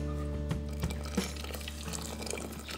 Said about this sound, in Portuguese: Vou colocar água até cobrir bem aqui o feijão.